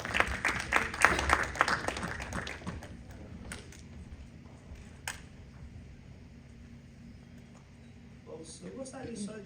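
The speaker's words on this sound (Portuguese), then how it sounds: "Você pode dar uma salva de palmas pro Senhor?" Congregation in a church service clapping in applause after a worship song, a dense burst of claps loudest at the start, then thinning under room noise with a brief sharp sound midway.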